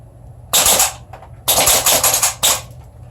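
Wellfire G74A gas blowback gun firing three loud, sharp bursts with a hissy blast of escaping gas in each, separated by short quiet gaps, close up.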